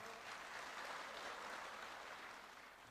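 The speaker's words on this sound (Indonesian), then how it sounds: "Ya, kita aplaus." Sustained audience applause at a political party speech event, dense steady clapping filling the whole stretch at even loudness before tapering slightly at the end, with no talk over it.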